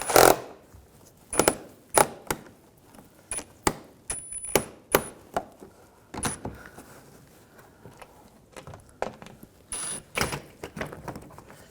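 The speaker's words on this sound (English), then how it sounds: "Use a Phillips head screwdriver. Take these screws out." A Phillips screwdriver works screws out of the shield on a 2006-2010 BMW 550i, giving a string of sharp clicks and taps at an uneven pace, close and clear.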